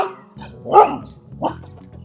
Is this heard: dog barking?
yes